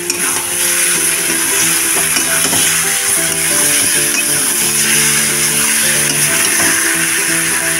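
Chicken curry cooks in a kadai, making a loud, dense, continuous sizzle and bubbling that stays steady and close throughout, with no one talking.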